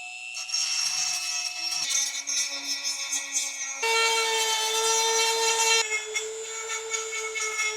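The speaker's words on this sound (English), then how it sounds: "I'm going to do my best to take a Dremel to that and see if I can't gently get rid of all of that" A Dremel rotary sander grinds soft plastic beside a clip on a Saab 9-3 ICM4 console part, a steady high whine that changes pitch in several sections as the load shifts, close and without talk.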